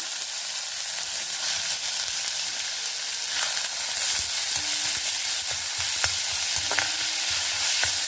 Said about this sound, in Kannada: ಎರಡು ನೀರುಳ್ಳಿ ಕೊಚ್ಚಿದ್ದು ಹಾಕ್ಕೊಳ್ತಾ ಇದ್ದೆ